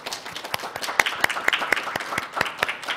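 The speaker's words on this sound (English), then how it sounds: "please help give them a big round of applause" At a Hmong American community event, a small audience claps in a sparse, rhythmic pattern of distinct, evenly spaced hand claps, close and crisp, sustained for the whole stretch rather than blending into a wash.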